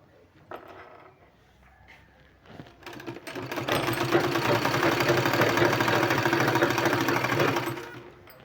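Sewing machine stitching a sleeve, a faint start-up then a steady, loud mechanical whirring run for several seconds before stopping, with no talking.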